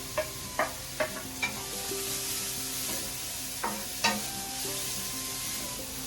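Chopped onions sizzle steadily in hot oil in a pan, with a few sharp metallic clinks and taps of stirring near the start and again later.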